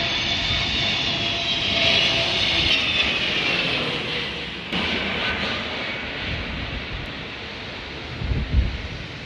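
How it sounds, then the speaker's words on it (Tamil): A Boeing IndiGo airliner aborts its landing in strong wind and climbs away, a loud sustained jet engine roar mixed with gusty wind noise, heard from a rooftop nearby, with no voices. "மும்பையிலிருந்து சென்னை வந்த அந்த போயிங் ரக இண்டிகோ விமானம் விமான நிலையத்தில் தரையிறங்க முயன்றது"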